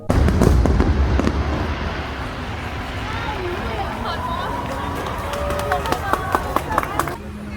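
Fireworks crackle and pop in a dense, continuous barrage, with sharp bursts near the end over a crowd's murmur and distant chatter, at a yearly firework festival.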